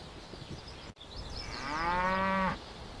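A dairy cow lets out one long, clear moo that rises and holds for about a second before stopping, heard close over a low farm background hum.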